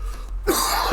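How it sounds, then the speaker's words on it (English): A single sharp cough bursts out after a near-silent pause, loud and close, from someone with a nagging cough who is playing Conan Exiles one evening. "Have a bit of a nagging cough"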